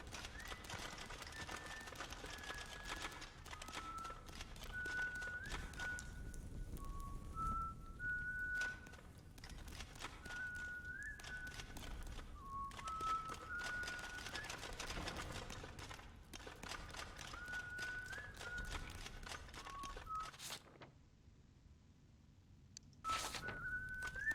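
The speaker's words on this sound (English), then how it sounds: "I can hear some bad whistling. That must be Silas." Silas whistles badly in the video game Ghost of a Tale: a wandering, off-key tune of short wobbly phrases that runs on for many seconds, with scattered clicks and thumps around it and a brief gap near the end.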